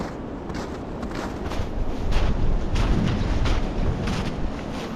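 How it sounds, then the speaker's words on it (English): Strong gusts of wind roar across a snowy mountain pass, buffeting the microphone in loud, rising and falling waves with no speech. "Hopefully we'll be out of the wind here in a second"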